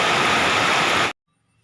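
Heavy rain falls in a dense, loud, steady hiss, close and unbroken for about a second before cutting off abruptly to near silence.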